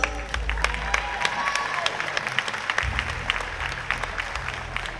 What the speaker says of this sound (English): You'll give these ladies a big, big round of applause.